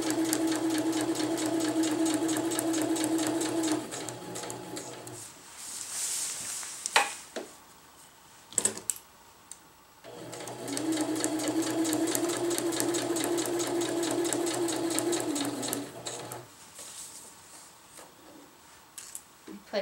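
A sewing machine stitches a tie-out on a winter tarp in two long, steady runs of loud, close whirring. Between the runs there is a quiet pause with a few clicks and handling knocks, and no one talks.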